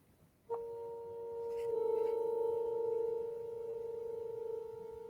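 Two steady pure electronic tones sound together, the first starting abruptly and the second joining a moment later, then both holding level, their clash producing a slow wavering beat, moderately quiet with no talk.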